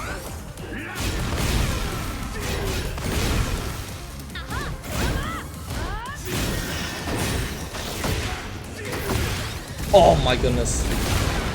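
A wall explosion in the Tekken 8 fighting game during a weekly tournament match: crashing, thudding impacts and whooshes throughout, with a sharp burst near the end, under excited commentary from people talking.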